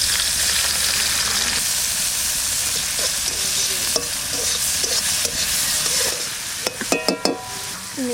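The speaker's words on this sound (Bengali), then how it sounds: "চিংড়ি মাছটা ভাজা করব।" Prawns frying in hot mustard oil in a wok, a steady loud sizzle throughout with a few stirring scrapes and clinks of a utensil near the end.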